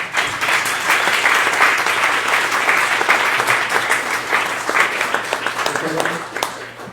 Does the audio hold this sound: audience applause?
yes